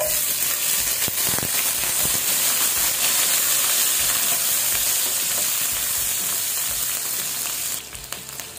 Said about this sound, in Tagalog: Mainit na po yung oil natin. Lalagay natin tong onion.